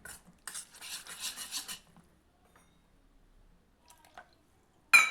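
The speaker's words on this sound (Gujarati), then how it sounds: "તો આપણે તેમાં થોડુંક પાણી પાછું નાખી દઈએ અને સારી રીતે મિક્સ કરી દઈએ" A spoon stirs a semolina and sour curd handvo batter in a bowl after water is added, giving a short burst of wet scraping and clinking, then near silence and a sharp knock of the utensil at the end.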